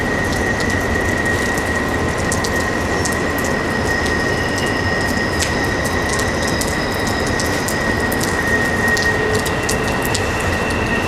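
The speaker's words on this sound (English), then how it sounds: "That's just the wheels on the track." Steady, loud grinding of train wheels rolling along the track, with a sustained high metallic whine and scattered clicks throughout, no talking.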